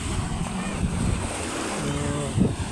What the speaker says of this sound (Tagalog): Yan ang alon